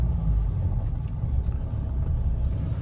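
A Mahindra XUV700 SUV engine pulls steadily in first gear, giving a continuous deep, droning rumble that stays close and fairly constant from start to finish.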